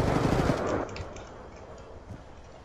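Automatic gunfire in a multiplayer shooter video game, a fast burst of rapid shots for under a second that then drops to scattered faint pops and low background noise.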